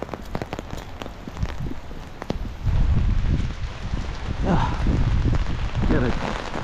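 Rain falls steadily on a walk outdoors, a dense patter with gusts of wind buffeting the microphone, growing heavier halfway through, while a person talks over it.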